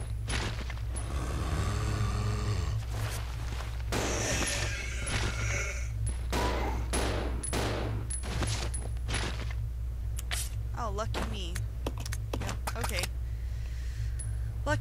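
Gunshots aimed at zombies in Resident Evil Zero, several sharp reports spread through the stretch over a constant low game hum, with mechanical clicks and clatter between them.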